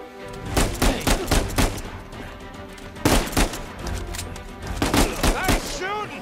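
Gunfire in the video game Uncharted 4 comes in clustered bursts of sharp, punchy shots, loud and close, with brief gaps between volleys.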